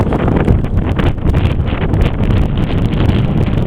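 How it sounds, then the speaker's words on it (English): Strong wind gusts across a mountain trail in the Carson-Iceberg Wilderness above a valley, buffeting the microphone with loud, uneven rumbling and rushing bursts. "It's very windy."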